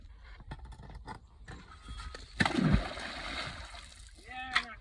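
An anchor is thrown out into water toward a ledge and lands with a single sloshing splash midway through, while someone talks over it before and after.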